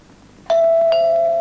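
A two-tone doorbell chime rings out clearly, a struck ding followed by a second tone, both ringing on with a long sustained hum, close and loud in an otherwise quiet room.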